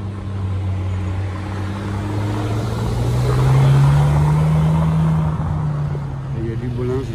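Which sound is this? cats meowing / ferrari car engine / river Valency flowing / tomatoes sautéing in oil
ferrari car engine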